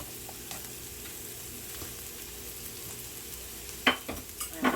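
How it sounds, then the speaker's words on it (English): Onions fry in a pan with a little salt and pepper, a quiet continuous sizzle with a few sharper stirring clicks near the end. "we're gonna start getting the onions cooking with a little bit of salt and a little bit of pepper"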